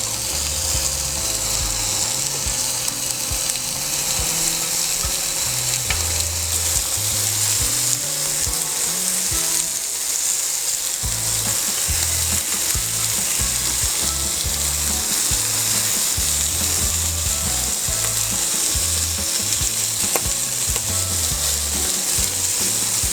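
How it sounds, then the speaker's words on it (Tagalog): Chicken inasal sizzles steadily on a hot grill, a dense continuous hiss close up with a constant crackling texture and no talking. "Ngayon, mag-iihaw na po tayo."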